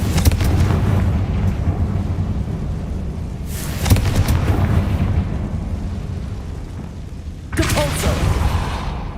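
In the Hogwarts Legacy video game, the Confringo fire spell sets off three booming explosive blasts spaced a few seconds apart over a constant rumbling roar.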